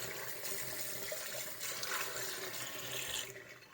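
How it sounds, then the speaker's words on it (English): Tap water runs into a Thermomix to rinse leftover okara out after making soy milk, a steady, fairly soft broadband rush of flowing and splashing water without talking. "we just rinse the remainder of the akara out of the Thermomix"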